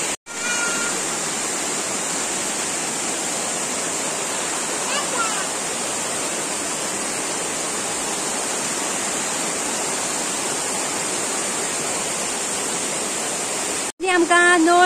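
Water from a small village waterfall in Goa, a spring-fed stream, rushes steadily and close by as a continuous broadband wash, with no talking heard.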